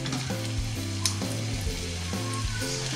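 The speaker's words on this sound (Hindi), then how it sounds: "तो अब तेल हमारा गर्म हो चुका है तो हम तड़का डालते हैं इसमें।" Chopped ginger sizzles in hot oil at the start of a tempering for rajma, a steady, close crackling hiss that runs throughout alongside a faint rising and falling tone.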